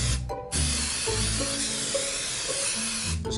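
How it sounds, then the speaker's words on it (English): A continuous close hiss of mold release spraying from an aerosol can, lasting a few seconds with brief breaks at the start and end. "you're gonna wanna spray a layer of mold release"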